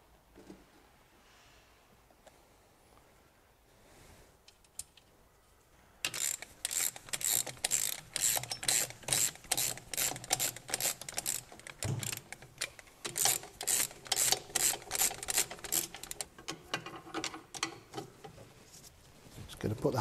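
After a quiet start, a ratchet wrench tightens the driveshaft nuts on a Triumph TR6 with fast, crisp clicking runs, close and fairly loud, briefly pausing before clicking on again.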